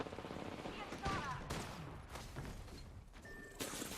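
Rapid video-game gunfire rattles in dense, overlapping bursts, loud and close, with a voice talking over parts of it.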